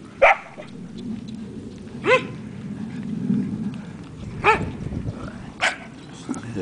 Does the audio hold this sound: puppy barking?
yes